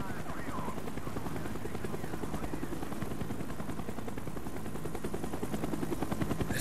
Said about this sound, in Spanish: El helicóptero está dando la vuelta.